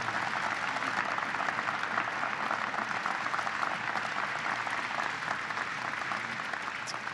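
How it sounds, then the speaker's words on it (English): Sustained audience applause at a National Space Council meeting, a broad, even roar of many hands clapping continuously for over seven seconds without a break. "Would you please give them another round of applause for making this a priority?"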